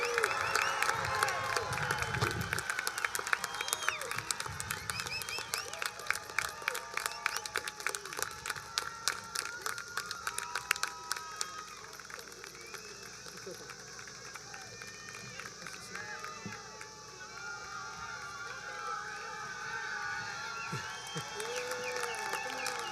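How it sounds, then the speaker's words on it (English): A graduation crowd for the class of 2021 claps and cheers steadily throughout, a dense continuous wash of applause with scattered whoops and voices mixed in. "Go ahead, keep clapping for them."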